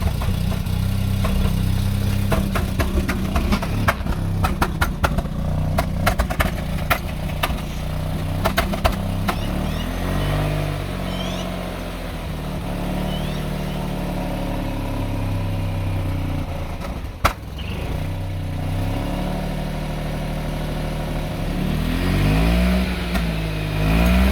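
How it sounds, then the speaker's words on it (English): A Mazda RX-8 rotary engine that sat unused for eight years runs roughly under steady throttle, loud and close, sputtering and surging unevenly as revs rise and dip throughout. "If I keep my foot on the throttle, I can keep it running a bit."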